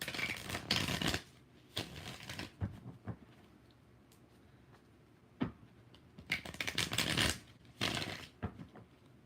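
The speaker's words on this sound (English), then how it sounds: "5 shuffles for Lily." A tarot deck shuffled by hand: several crisp riffling bursts separated by quiet pauses, close and fairly soft.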